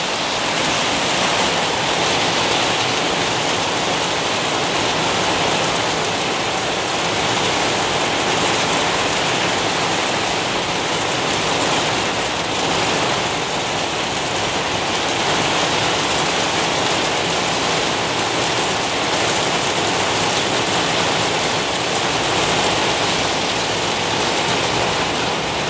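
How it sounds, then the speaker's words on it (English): Steady, dense rain falls outdoors over a garden, a continuous even hiss that stays loud and unbroken throughout, with no voices. "So happy that it's raining."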